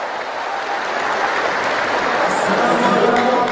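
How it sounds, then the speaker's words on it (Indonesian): Sustained applause from a large audience at the Muhammadiyah congress, following a Tapak Suci Putera Muhammadiyah martial arts performance, steady dense clapping that swells slightly over a few seconds with crowd noise beneath. "Boleh kita berikan tepuk tangannya untuk penampilan Tapak Suci."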